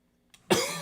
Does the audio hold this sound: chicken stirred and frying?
no